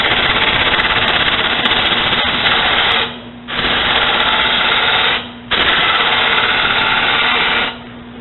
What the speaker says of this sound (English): Use a smaller nose gouge, bowl gouge, just to kind of bring it down so you have a little more control over it.